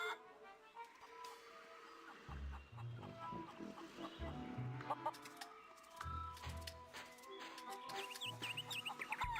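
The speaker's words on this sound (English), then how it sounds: "A lot more chickens." Chickens cluck in The Curse of Monkey Island, a scattered run of short clucks and squawks over busy game music and ambience, fairly close and moderately loud.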